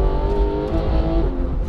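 A loud Porsche 991 GT3 flat-six engine roars and revs up close, its pitch climbing as it accelerates hard, with no voices.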